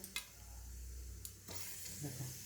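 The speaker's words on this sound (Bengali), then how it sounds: "কালো জিরে দিয়ে তেলটা পুরো গরম হবে, কালো জিরে দিলাম" Faint, steady sizzling of nigella seeds frying in hot oil, with a few light clicks and a soft scrape.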